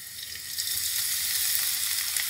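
Steady crackling sizzle of garlic frying in hot olein oil in a pan, close and continuous, with no voices.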